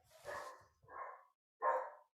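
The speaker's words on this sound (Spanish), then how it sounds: "mis perritos estaban ladrando" Small pet dogs barking indoors in three separate bursts, a pair of close barks followed by a louder final one after a short pause, with no talk over them.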